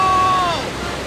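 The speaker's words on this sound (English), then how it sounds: "Waterfall!" A river rushes over a waterfall in an animated cartoon scene, a loud, steady roar of churning water that fades slightly toward the end.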